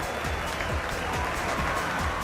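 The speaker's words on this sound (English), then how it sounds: "There were thousands of people cheering on Céline that were happy to see her back." A large crowd of thousands roars and applauds Céline Dion on her return home, a dense continuous wash of clapping and cheering that stays level throughout.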